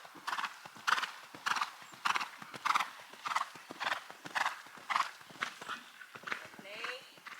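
Horse hooves clip-clop steadily on the ground during a showjumping lesson, a regular rhythmic beat with a brief whinny, heard under an instructor's voice.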